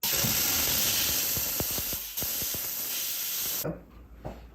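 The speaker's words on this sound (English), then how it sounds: "Final step, we're going to be steaming the ring." A jewelry steam cleaner blasts a resized platinum ring with a loud, continuous hiss of steam, a few sharp clicks scattered through, before cutting off near the end to leave a quieter room.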